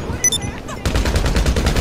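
Gunfire in GTA 5 Online, a rapid string of loud close-range shots rattling in quick succession after a brief electronic blip, with a player speaking nearby.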